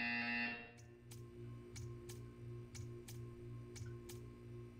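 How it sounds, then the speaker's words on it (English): Buzzer in the Portal 2 video game, sounding as a regular train of short, even electronic pulses, about two per second, that follow a brief higher tone at the start and continue steadily. "You will hear a buzzer. When you hear the buzzer, stare at the art."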